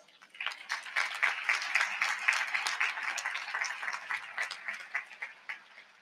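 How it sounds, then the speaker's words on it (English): Steady applause from a large audience at a spring university commencement ceremony, a dense continuous patter of many hands that swells quickly and holds for several seconds before thinning. "Let's also give them a round of applause."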